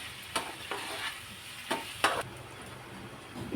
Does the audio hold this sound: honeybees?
no